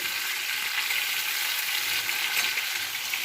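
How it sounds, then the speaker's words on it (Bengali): Giant freshwater prawns rubbed with salt and turmeric fry in hot oil, giving a continuous, even, close sizzle with no voices. "নুন হলুদ মাখিয়ে তেলের উপর দিয়ে আমি ভেজে নেবো মাছগুলো।"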